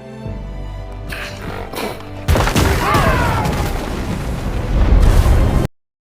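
Deep booming explosions in a Halo video game roll out one after another over a burning city, followed by a sustained roaring rumble that swells louder before cutting off abruptly.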